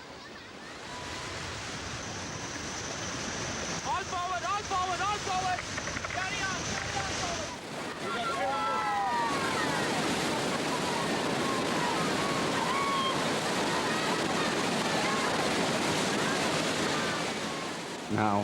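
A small rubber raft is tossed through the turbulent rapids of the Brahmaputra River, with continuous roaring, churning water and wind buffeting close up, while voices shout commands over the din.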